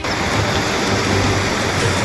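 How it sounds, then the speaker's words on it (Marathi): Heavy monsoon rain in Anantnag, Kashmir, pours steadily, a dense continuous roar of water with no pauses, loud and close throughout. "अनंतनागमध्ये तीन दिवसांपासनं सतत मुसळधार पाऊस पडतोय"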